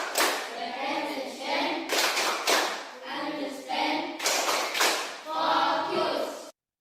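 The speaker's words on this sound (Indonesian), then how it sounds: "ada video anak-anak yang sedang ice breaking berupa tepuk yang ada di dalam kelas" Children in a classroom clap in rhythmic bursts for an ice-breaking game, chanting along between sharp volleys of hand claps.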